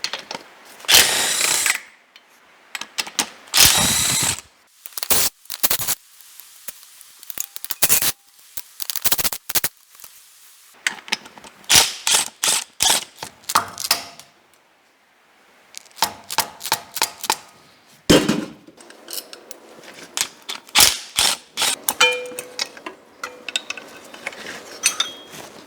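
Bolts being ratcheted out of the hydraulic pump bracket on a BMW E31 850i V12 engine during disassembly: repeated bursts of quick metallic clicking and rattling, separated by short pauses, close and fairly loud, with no talking.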